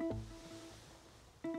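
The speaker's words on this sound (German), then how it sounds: "Dieses Geräusch hat mich so dermaßen die letzten 3 Monate begleitet, weil wir haben eine vollelektrische Handbremse und er will unbedingt, dass ich die Handbremse anziehe" A Ford Mustang with a fully electric handbrake sounds its warning chime after being parked with the ignition off and the door open: two short, clear tonal dings about 1.3 seconds apart, close and fairly quiet.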